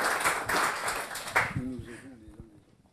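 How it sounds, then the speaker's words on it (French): An audience at a televised round-table discussion applauds in a short burst that thins out quickly, after which a voice speaks over the last scattered claps. "Ah, allez-y, je vous laisse applaudir."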